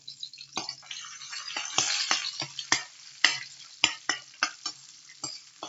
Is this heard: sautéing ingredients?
yes